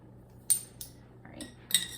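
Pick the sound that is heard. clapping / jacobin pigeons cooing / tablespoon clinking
tablespoon clinking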